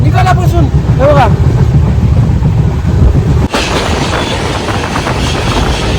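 A train rumbles along the rails on a journey from Katra to Haridwar through ghats and tunnels, a loud continuous roar with wind buffeting and a brief voice early on.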